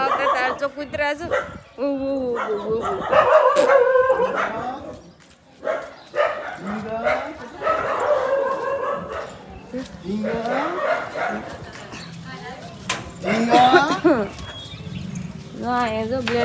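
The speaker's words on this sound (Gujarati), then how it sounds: "તો કૂતરા જો" A dog barks and yips in bursts across the scene, close by and fairly loud, with people talking in between and over the barks.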